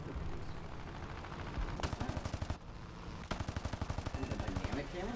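Aircraft cannon fire in War Thunder, flying a Martlet Mk IV: loud, rapid bursts of rhythmic thudding shots with a brief pause between them, over engine drone, while someone speaks briefly.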